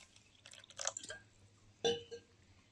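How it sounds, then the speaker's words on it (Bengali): A little water is poured into batter for palm fruit pitha, heard as two quiet, brief splashy trickles separated by a pause, close by with no talking. "আর একটু জল দিচ্ছি"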